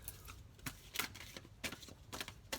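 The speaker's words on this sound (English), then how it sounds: "See, I don't even know how to shuffle this." Tarot cards being shuffled by hand in a series of quick, soft riffling bursts at an uneven pace, close but quiet, with no voices.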